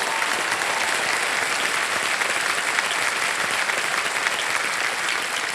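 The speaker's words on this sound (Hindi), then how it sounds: "एक बार जोरदार तालियां हो जाएं इनके लिए।" A TV quiz show studio audience gives loud, sustained applause, an even wall of many hands clapping that holds steady throughout without any voices on top.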